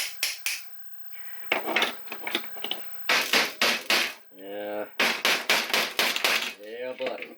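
A small hammer raps in quick, sharp, metallic bursts on the wire cage of an Elite 2.0 turbine motor, close by, with brief pauses. Someone talks between the bursts.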